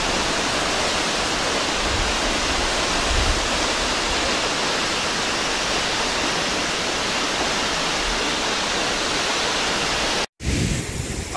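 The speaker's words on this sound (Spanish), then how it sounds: "aprovechar que tenemos la catarata solo para nosotros" A waterfall at Ecochontales pours steadily in a dense, continuous rush of falling water, loud and close, holding the same roar throughout with a brief dropout near the end.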